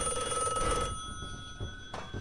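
Telephone in the video game Mirror Forge rings loud and close for about a second with a bright, steady electronic bell tone, then falls quiet before a faint second burst near the end.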